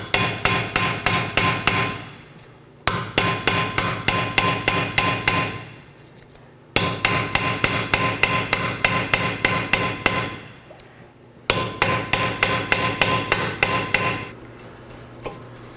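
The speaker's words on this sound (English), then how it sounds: "I'm going to use an impact driver to remove it." An impact driver hammers at a T30 screw holding the front brake rotor on a 2018-2024 Chevrolet Equinox, in four loud bursts of rapid rattling blows separated by short pauses, close and with no talk.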